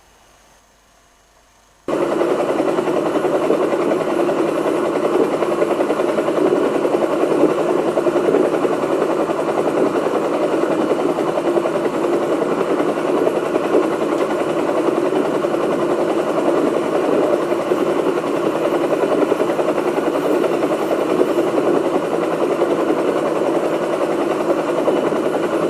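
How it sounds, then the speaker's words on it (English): A police helicopter throbbing overhead: after a couple of near-silent seconds a loud, steady droning hum sets in and holds unbroken and unchanging to the end, with no voices. "That's a police helicopter"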